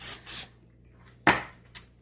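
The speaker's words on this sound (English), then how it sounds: "I like to spray it well so that it's nice and hot" Cooking spray hissing onto a hot skillet in two short bursts, followed by a sharper spritz and a faint final puff, close and clear.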